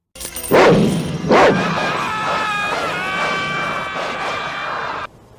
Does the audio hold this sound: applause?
no